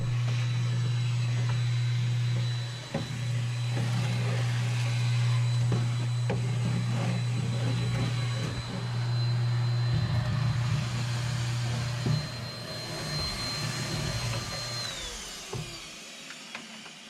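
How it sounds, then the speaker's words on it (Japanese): A vacuum cleaner runs continuously while cleaning out a storage shed, a loud, close motor hum with a steady whine, broken by brief bumps and rattles as the nozzle moves, then cutting off near the end. "ひたすらね、掃除機、バーっとかけていきます。"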